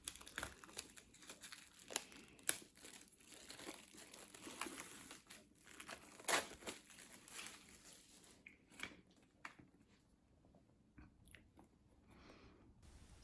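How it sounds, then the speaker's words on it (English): Plastic shrink wrap crinkles and tears as it is peeled off a limited edition My Hero Academia Season 5 Blu-ray and DVD box set, close crackling bursts that come and go and thin out toward the end, with no talk. "if I can get this unwrapped without actually damaging any of the box"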